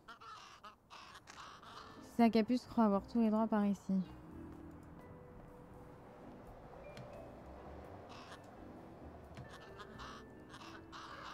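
In the video game Little Kitty Big City, a crow gives a short run of loud harsh caws close by, followed by quieter game ambience, with people talking before and after.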